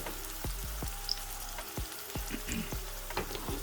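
Green onion, hot pepper and garlic frying in a pan, a steady sizzle with a series of sharp scraping and tapping stirs at irregular intervals, close and clear with no talking.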